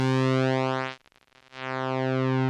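A synthesizer square wave with its pulse width knob turned fully left, a steady buzzy harmonic-rich tone that thins and nearly vanishes in a brief dip before swelling back to full, sweeping harmonics throughout, loud and alone.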